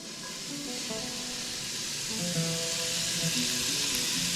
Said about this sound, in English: So next, what we're going to do is we're going to brown up our bacon